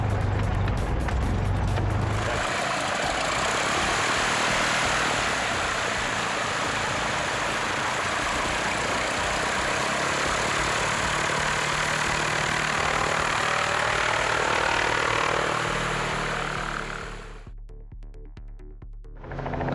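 A Cessna's piston engine runs at a steady, loud idle-like drone during a magneto dead-cut check. The tone dips abruptly and briefly near the end before the engine returns.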